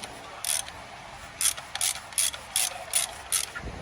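A ratchet tightens a part during an oil change on a Jeep Grand Cherokee, giving a series of sharp clicking strokes, roughly seven, in an uneven rhythm, close and clear over a quiet background.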